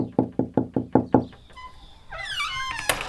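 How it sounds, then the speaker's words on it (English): Six gentle, evenly spaced knocks on a door ring out close and clear, then stop, followed by a short burst of bright, tonal chirps and squeaks. "she heard repeated gentle knocks on the door"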